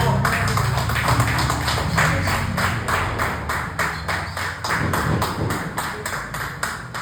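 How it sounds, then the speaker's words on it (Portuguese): A congregation at an Assembleia de Deus church in Mooca claps together in a steady, even beat, the dense rhythmic claps filling the room continuously for several seconds. "Aplauda o Senhor."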